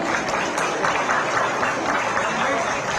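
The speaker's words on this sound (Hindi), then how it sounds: "एक बार जोरदार तालियां।" Dense, continuous applause from a large audience at a live public address by Uttarakhand Chief Minister Dhami, a steady wash of clapping with crowd murmur, fairly loud and sustained throughout.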